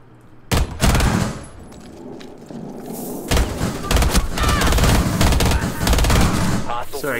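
Gunfire in a Rainbow Six Siege terrorist hunt match: a sharp opening burst followed by sustained rapid automatic fire and heavy thumps, loud and dense throughout, with occasional voices mixed in.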